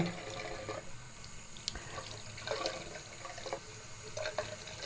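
A bathroom tap runs steadily as a washcloth is wetted at the sink, with soft splashing and a few brief louder splashes, close by and moderately quiet, and no voices.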